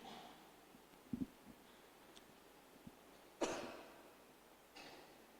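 Family members cough in a quiet room: a quick double cough, a few lighter ones, then a stronger raspy cough, faint and spaced apart with no talking.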